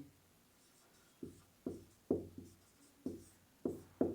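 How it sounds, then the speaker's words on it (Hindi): Chalk or marker strokes on a board during a Class 12 physics lesson on alternating current: a series of short scratchy taps and strokes, about eight distinct hits spaced irregularly, fairly close and clear with no talk. "और इसको हिंदी में लिख दे रहा हूँ"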